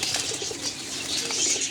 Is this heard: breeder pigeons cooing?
yes